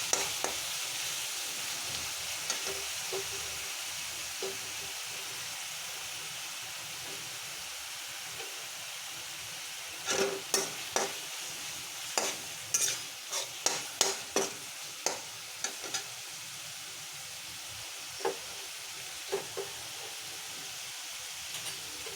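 Mushrooms and green chillies fry in a pan with a constant soft sizzle. Clear stirring scrapes and clinks come in a cluster midway, and a few more follow later. No speech.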